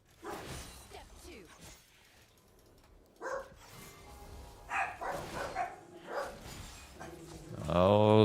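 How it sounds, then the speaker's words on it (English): Several dogs barking excitedly in the background of a gaming esports pregame show, bursts of barks and yips rising toward the end, mixed with ongoing talk. "Oh, dogs are going nuts."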